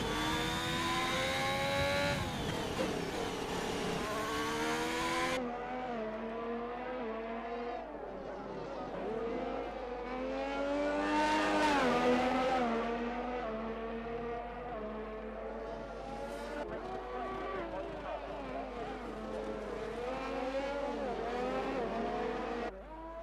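A race car in a sim racing game, running on medium tyres, drives around a track with a steady, high-pitched engine whine that rises and falls through gear changes and corners, heard continuously at moderate volume.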